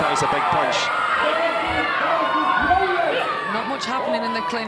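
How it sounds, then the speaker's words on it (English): A crowd at a taekwondo bout in Manchester between Great Britain's Caden Cunningham and Ivory Coast's Cheick Cisse cheers and murmurs in the background, a broad steady roar beneath a commentator talking over it throughout. "you can hear the crowd, and they are indeed cheering on the host nation"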